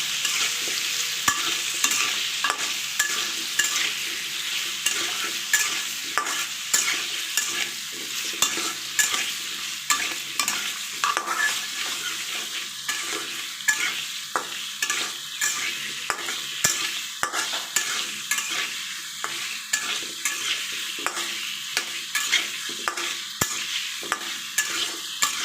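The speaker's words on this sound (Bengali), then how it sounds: "আলুটা ভেজে নেব।" Potato pieces dusted with turmeric fry in a pan, a steady crackling sizzle punctuated by repeated rhythmic scrapes and taps of a spatula stirring close by throughout.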